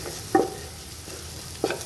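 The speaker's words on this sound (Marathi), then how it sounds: "मसाल्याचं सायडनं तेल सुटेपर्यंत मसाला पलसून घ्यायचा आहे" Spice masala with amchur powder fries in oil in a pan for a dry potato and capsicum dish, sizzling softly throughout while a spoon scrapes and stirs twice, in two short, close strokes.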